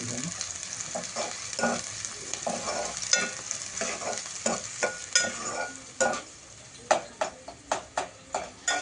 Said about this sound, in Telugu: ఉల్లిగడ్డ వేసిన తర్వాత కొద్ది గోల్డ్ కలర్ వచ్చేంత వరకు మనం దాన్ని ఫ్రై చేసుకోవాలి